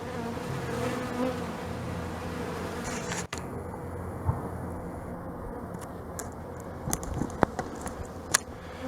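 A dense swarm of honey bees hums continuously around a hive after a package release, a steady close buzz with occasional faint clicks and taps.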